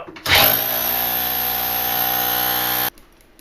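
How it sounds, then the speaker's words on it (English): Power drill bores out small parts of a scale model R90 engine, a close, loud, steady high-pitched whine starting abruptly, holding for about two and a half seconds, then cutting off. "I really want to drill them out"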